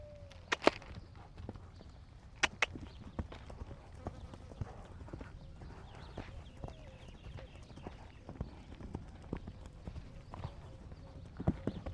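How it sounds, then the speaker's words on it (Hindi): An Arabian endurance gelding's hooves clip-clop as it moves from left to right, a steady stream of close, sharp hoof strikes with a few louder knocks, and someone talking over it. "तो घोड़ा लेफ़्ट साइड से राइट साइड जा रहा"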